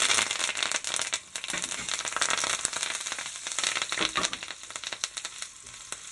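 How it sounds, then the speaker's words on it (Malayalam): Curry leaves spluttering in hot oil with golden-fried onions while being stirred, a dense continuous crackle and sizzle with sharp pops throughout, close and fairly loud. "കറിവേപ്പില ഒന്ന് ജസ്റ്റ് ഇളക്കി കൊടുക്കാം"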